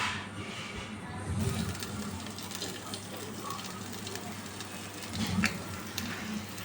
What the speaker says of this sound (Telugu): ఇప్పుడు గిన్నె పెట్టేసుకొని 1/2 స్పూన్ నెయ్యి వేసుకున్నాను